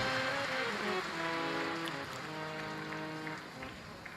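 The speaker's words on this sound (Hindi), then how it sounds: "एक बार जोरदार ताली बजाकर यजमान परिवार के लिए" A large crowd at a Shiv Mahapuran katha in Bathinda, Punjab, claps loudly and continuously as a dense, rain-like wash of applause mixed with background music that slowly tapers off.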